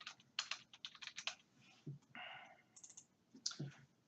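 Password being typed on a computer keyboard: quick, quiet runs of clicky keystrokes in uneven bursts, with a short mechanical whir in the middle.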